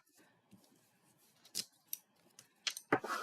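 A bone folder rubbed across a sheet of paper to smooth out wrinkles while scoring, heard as quiet scratchy swipes with several sharper rasping strokes toward the end, close and alone.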